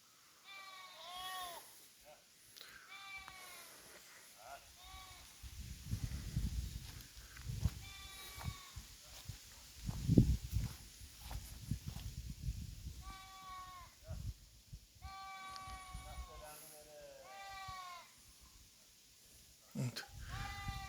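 Goats bleat repeatedly at a distance on a highland pasture in the morning after rain, several overlapping calls, while someone talks over wind noise outdoors.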